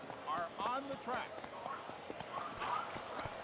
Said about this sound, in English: The horses are on the track.